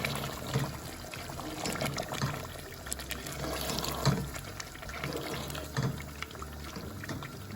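Steady liquid pouring and trickling as half a cup of cream goes into a simmering chicken gravy, continuous close wet sound with soft splashes, no talking.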